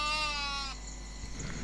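A sheep on a farm in Westonia, Western Australia, gives a single loud, wavering bleat close by. Low background noise follows after it fades.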